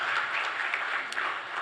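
Audience applause at an agriculture conference session, a dense continuous wash of clapping heard at moderate distance for a brief moment.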